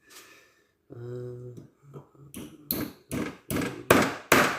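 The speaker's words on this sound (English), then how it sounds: "let me get a hammer, bend that down, center punch that" Hammer blows on metal while bending a piece during a homemade forge build: a series of sharp, ringing strikes that grow louder and quicker, following a brief hum and a couple of lighter taps.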